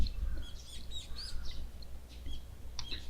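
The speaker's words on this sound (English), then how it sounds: "The chirping of birds served as my alarm clock." Birds chirp in short scattered tweets over a low steady hum in the Higurashi When They Cry video game, moderately faint, with no voices present.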